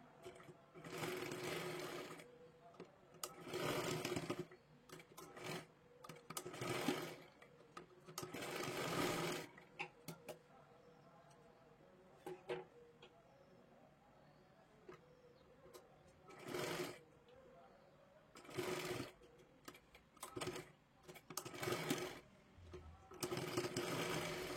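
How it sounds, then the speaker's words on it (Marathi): A sewing machine stitches a sleeve seam on a garment in repeated bursts of rapid whirring, separated by pauses as the fabric is adjusted, with a voice speaking quietly between runs. "अर्धा इंच जेवढं पकडलेलं आहे तेवढं इथं आपल्याला शिलाई करून घ्यायचं आहे"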